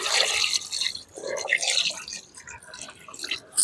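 Water splashes and trickles into a pot of desi aseel chicken curry, a fairly close, uneven pouring sound that runs for a few seconds.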